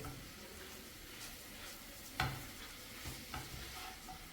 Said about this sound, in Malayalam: ഇനി വീണ്ടും നന്നായിട്ട് മിക്സ് ചെയ്തിട്ട് ഒരു മൂന്ന് മിനിറ്റ് ഈ ഒരു രീതിയിലൊന്ന് ചെയ്തെടുക്കുക